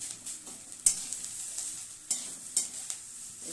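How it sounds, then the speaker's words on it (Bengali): Boiled hog plum going into a pan of grated coconut frying in oil, a soft continuous sizzle broken by several sharp spoon-and-pan clacks as it is stirred, close and without talk. "ওই সিদ্ধ আমড়াটা দিয়ে দেব"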